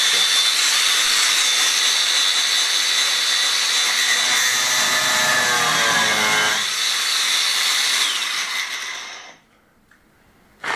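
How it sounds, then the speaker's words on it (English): An angle grinder whines loudly and continuously, its tone shifting as it cleans out the slot of a screw set in timber, then cuts off abruptly near the end. "I'm going to try and clean up the slot with the angle grinder."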